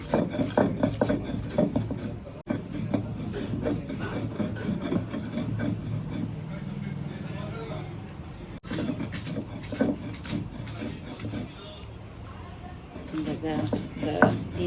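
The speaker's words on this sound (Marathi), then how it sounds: "आंबट चटणीच बनवायचं तर पाट्यावर आपण वाटलं" Raw mango chutney being ground by hand on a stone slab (pata), a steady rough rubbing and scraping that repeats in long strokes and runs throughout, loud and close, with brief pauses.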